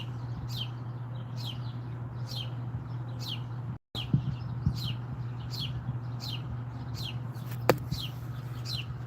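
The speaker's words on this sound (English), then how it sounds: "birds here loud." Birds chirp in a regular, repeating series of sharp tweets, about one per second, over a steady low hum, with a brief dropout and a couple of clicks midway.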